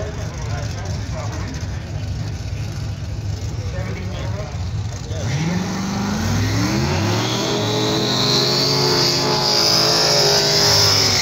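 A yellow Pro Mod Corvette drag race car at a drag strip, a rumbling engine that builds to a loud rising roar as it launches, with crowd noise and voices around it.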